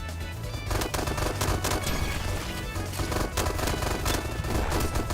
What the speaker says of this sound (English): And you can switch it to a semi-auto pistol.